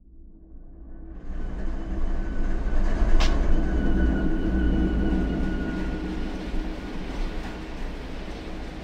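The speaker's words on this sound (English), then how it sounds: "Let's see what this refrigerated train looks like." A refrigerated freight train with Union Pacific and CSX locomotives rolls near Waycross in the Run8 train simulator, its deep rumble swelling after a second, then holding loud and steady with faint rail clatter.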